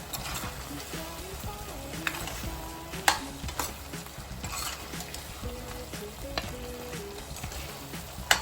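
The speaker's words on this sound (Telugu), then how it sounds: "ఒక టూ మినిట్స్ ఇది ఇలా వేగనివ్వాలండి" Mutton keema curry frying in a pan, a steady dense sizzle with scattered clinks and scrapes of stirring, close and fairly loud, with no talking.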